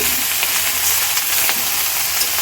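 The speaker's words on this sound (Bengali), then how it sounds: "এবার আলুগুলো দিয়ে দেবো। দেখুন ছোট্ট ছোট্ট আলু, এই যে আলুগুলো দিয়ে দিচ্ছি" Small whole potatoes sizzle in hot oil with five-spice and other vegetables, giving a steady, close crackling and frying hiss with no talking.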